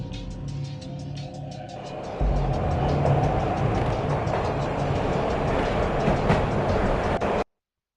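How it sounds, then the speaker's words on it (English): A train ride in the video game Max Payne, a steady loud rumble and rattle of rail cars with a rhythmic clickety-clack that swells after a couple of seconds and continues until it cuts off. "This was my second train ride of the night."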